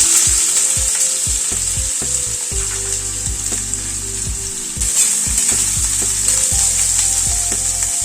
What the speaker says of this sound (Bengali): আগে গ্যাসের ফ্লেমটাকে মিডিয়ামে রেখে পেঁয়াজটাকে ভেজে নেব।